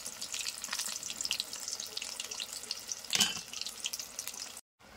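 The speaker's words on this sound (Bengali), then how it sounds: "আগে ভেজে নিই ভালো করে।" Chicken pakoda fries in hot oil in a village kitchen. The oil gives a steady, close crackling sizzle with a brief louder burst midway, and the sound cuts off just before the end.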